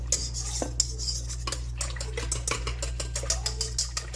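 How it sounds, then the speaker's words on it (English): A utensil stirs a flour and yeast mixture in a bowl, making quick, repeated clinks and scrapes against the bowl over a low steady hum. "Just give it a quick mix."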